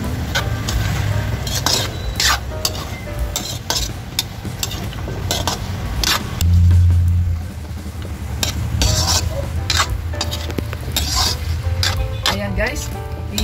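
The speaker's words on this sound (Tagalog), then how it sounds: "At igigisa rin natin guys yung ating labanos at gabi." Radish and taro sautéing in a pot for pork belly sinigang sizzle loudly and steadily, with repeated scraping and clinking of a spoon against the metal as the pieces are stirred.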